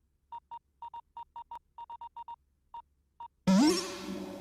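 A phone sounds a message alert: a run of short, clear electronic beeps in an uneven rhythm, followed by a louder rising tone that fades out.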